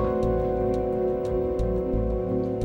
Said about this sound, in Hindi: I hate this goddamn rain.